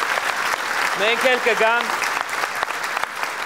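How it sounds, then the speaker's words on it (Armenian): Loud, sustained applause from a studio audience for a talented band, steady dense clapping throughout while a voice speaks over it briefly in the middle. "Մի հատ բարձր ծափարենք մեր տաղանդավոր ընկերներին։"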